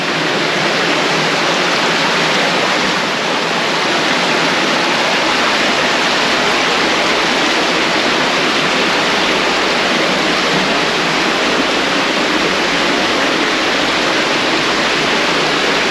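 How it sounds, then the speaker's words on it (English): Water rushing through an old coal mine tunnel on New Zealand's West Coast, a dense, loud, continuous roar that echoes off rock and holds steady from start to end. "the water disappears out the side tunnel here"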